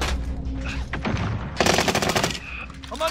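Rapid automatic gunfire rattles through a Call of Duty battle, a dense burst of shots under steady background noise and game effects, with scattered single cracks around it.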